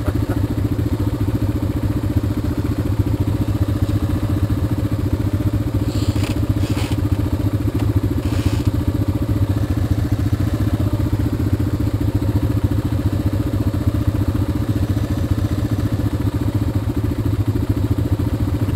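Motorcycle running on the Rockingham Recreational Trail, a loud, steady, close engine drone with a low throb and a few brief rattles partway through, and no talk.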